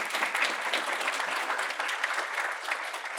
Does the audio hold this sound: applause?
yes